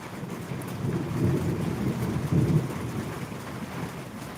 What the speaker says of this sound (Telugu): వర్షం అయితే కురుస్తుంది